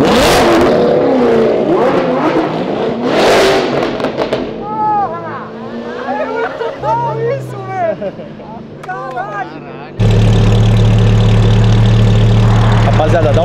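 A Corvette's exhaust blares as the engine revs hard on a city avenue. Loud roaring bursts come first, then excited voices talk over a lower rumble, and a heavy close idle drones at the end.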